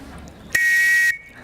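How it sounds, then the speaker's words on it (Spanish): A railway station master's double-tone whistle blown once in a single sustained shrill blast lasting about half a second, loud and close, with quiet room sound before and after. "La gorra, el banderín y el silbato. ¿Cómo sonaba ese silbato?"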